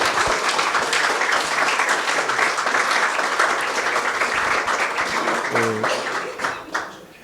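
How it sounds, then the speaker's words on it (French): An audience at a university lecture at UNDAV in Argentina breaks into sustained applause that fades toward the end, with brief voices heard over the clapping. "y pido un aplauso para él"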